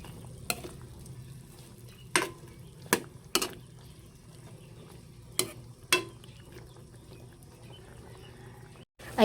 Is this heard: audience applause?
no